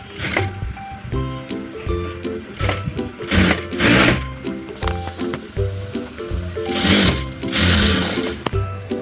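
A sewing machine stitches a zipper onto a frock, running in steady bursts of rapid needle chatter that start and stop across the whole stretch, loud and close, with no talk over it.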